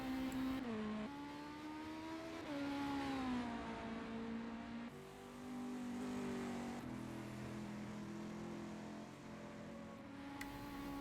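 Revving engines of race cars in a Le Mans endurance racing video game climb and drop through gear changes as a car pulls out of the pit lane, a sustained mid-distance whine with rising pitch sweeps and no voices.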